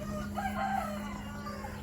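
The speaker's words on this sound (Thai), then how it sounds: "แม่ไก่สาว" Young laying hens cluck softly and briefly in a backyard coop, a short quiet burst over a steady low hum.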